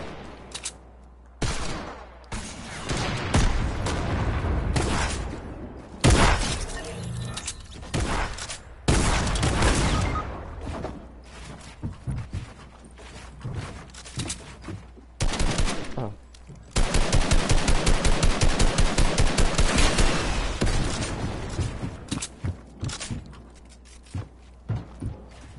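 Rapid gunfire in a video game, bursts of automatic shots and a long sustained volley, loud and close, with mechanical clicks and footsteps between the bursts and voices talking over the action.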